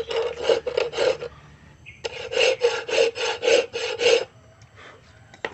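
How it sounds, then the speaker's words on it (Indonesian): A hand file rasps against a motorcycle brake handle accessory in quick, even back-and-forth strokes, a short burst, a pause, then a longer run of close, loud strokes. "sekarang kita kikir dari bawah"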